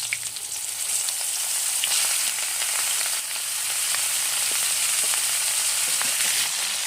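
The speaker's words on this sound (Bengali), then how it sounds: "তেল গরম হয়ে গেছে, কপিটা দিয়ে দিচ্ছি" Steamed cauliflower frying in hot oil for a tilapia fish curry, a soft, even hiss of sizzling with faint crackles and a few light scrapes, steady and close with no voices.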